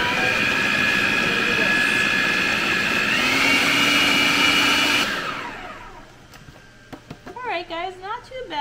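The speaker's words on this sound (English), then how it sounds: "We can make this work with this food processor." A food processor whirs loudly and steadily for about five seconds as it blends fresh tomatoes for canning sauce, its pitch shifting partway, then cuts off and winds down before someone starts talking.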